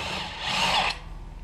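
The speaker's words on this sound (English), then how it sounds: "I want to grab my impact, take one of these blades off" An impact wrench spins off a blade from a Dixie Chopper mower fitted with a Magic Mulcher, a single loud, close burst of whirring lasting under a second, then dropping to a lower mechanical hum.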